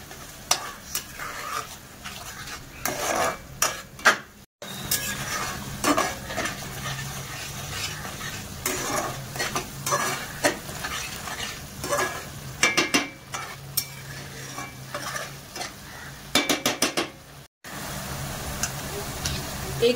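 Tomato purée sautéed and stirred in a pan for a home-style veg korma, with steady sizzling and repeated scraping strokes of a spoon running through, plus occasional clinks against the pan.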